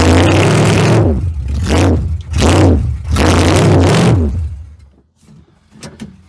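An old rusty car with a stuck brake pulls along in loud, repeated surges of engine and grinding drive noise for about four seconds, each swell rising and falling, then the sound drops to a quieter idle with a few faint clicks.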